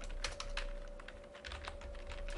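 Rapid clicking of a computer keyboard as code is typed, a close, steady run of keystrokes with no talk over it.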